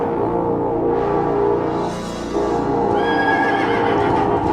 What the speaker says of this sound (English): Where did the horse come from?